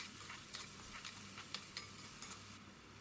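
Quiet, steady sizzling of a large chopped onion sautéing in oil with dried red chillies, with occasional soft scrapes and clinks from stirring.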